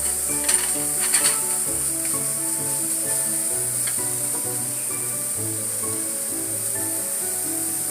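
Rosemary sizzles steadily in a hot pan while being stirred, with a constant frying hiss, a few brief louder crackles early on, and faint utensil movement underneath, no voices.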